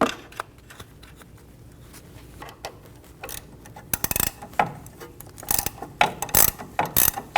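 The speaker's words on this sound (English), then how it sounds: "Snug the nut down." A ratchet tightens the sway bar link nut on a 2012-2022 Volkswagen Passat, quick bursts of rapid clicking with short pauses between, close and growing louder toward the end.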